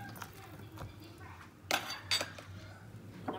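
A spoon stirs kale and potato soup in a pot with soft scrapes and a couple of sharper metallic clinks against the side, quiet and close.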